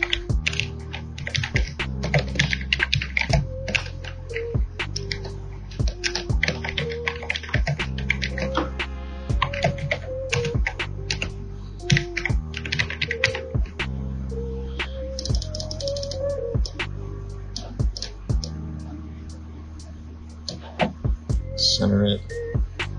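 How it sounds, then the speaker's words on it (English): Keys clatter on a computer keyboard in quick, uneven bursts, with steady broadband hum and some tonal audio underneath, likely program sounds, while a quick text is entered in a TriCaster TC1 project. "just type something out"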